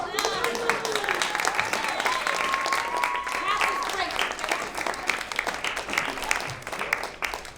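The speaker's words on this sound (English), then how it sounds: "why the fuck are you clapping?" A comedy show audience claps steadily throughout, a continuous dense patter of applause with voices and crowd noise mixed in.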